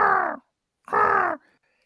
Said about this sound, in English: And out of the fog, he hears the cawing of a crow.